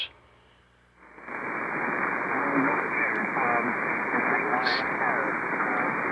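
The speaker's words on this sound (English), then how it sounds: "I got a lot of noise here tonight. On 75 meters." Dense, steady radio static hiss on the 75-meter amateur band fills the clip after a brief quieter opening, with faint warbling tones drifting through the noise.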